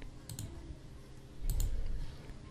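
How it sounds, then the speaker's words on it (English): A computer mouse double-clicked on a Windows file, two pairs of quick, crisp, close clicks separated by about a second of quiet room tone. "So just double left click it to extract the file."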